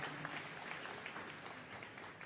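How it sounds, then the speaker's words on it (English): Audience applause at Scrufts, the crossbreed dog show at Crufts 2022, a steady dense wash of clapping filling the whole stretch at moderate, even volume with no talk over it. "Ladies and gentlemen, a big round of applause."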